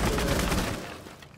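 A rapid burst of gunfire from an online tactical shooter match, a loud close volley of rattling shots that fades out over a second.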